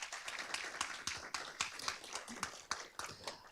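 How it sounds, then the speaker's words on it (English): Audience at an invention competition finals clapping for the judges, a sparse, fairly faint patter of individual claps in an uneven rhythm. "If we can give our judges a round of applause"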